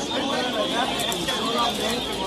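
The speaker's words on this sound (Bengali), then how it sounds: "পুরান পেটের কিছু কবুতর দেখাচ্ছি আপনাদেরকে" Pigeons coo softly in the background at the Zinjira pigeon market in Bangladesh, mostly under a man's close, continuous talk.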